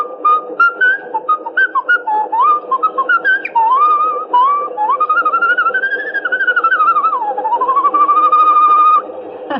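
A person whistling the tune Yankee Doodle, a clear, close melodic whistle of short rising and falling notes that runs on alone for several seconds.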